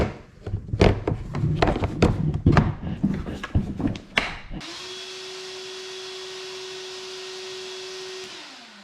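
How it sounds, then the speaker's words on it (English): Ryobi cordless vacuum fitted with a DeWalt battery, first a series of clattering knocks and handling sounds, then the motor switching on with a steady loud whine that runs evenly before cutting off. "So now my Ryobi cordless vacuum is set up for DeWalt batteries."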